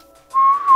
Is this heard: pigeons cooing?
no